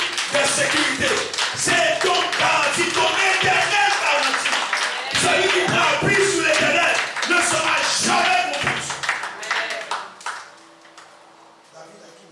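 A church congregation claps loudly and continuously in acclaim of Jesus, with voices shouting over the steady applause before it fades out near the end.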